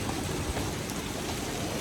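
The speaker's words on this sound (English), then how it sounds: "And now it's raining." Rain patters in a rough, steady hiss, close by and moderately loud, with a low rumble underneath as water strikes the hard surface of a Wharram Tiki 46 catamaran during a storm.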